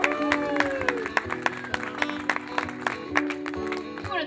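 A bluegrass festival audience claps and stomps in a rhythmic beat, with sharp repeated hits over lingering music and crowd noise.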